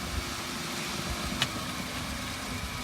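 Car engine running low and steady in first gear during a beginner driving lesson, a faint even hum with no talking and one tiny click.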